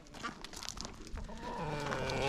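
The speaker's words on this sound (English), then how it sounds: "Look, it's a chicken." A chicken clucks on a farm among other livestock, with scattered short clucks partly under people talking and general farmyard background.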